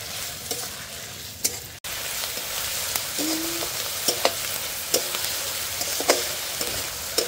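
Onion paste fries in pure mustard oil for a pork curry, giving a constant close sizzle broken by occasional sharp stirring clacks, one loud knock near the start, and no speech.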